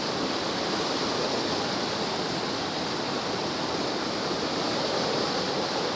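Floodwater of the Pecos River rushing over a normally dry island, a loud, unbroken roaring wash of water close by, steady throughout with no voices.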